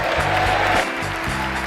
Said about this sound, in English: Words that drew applause from the crowd.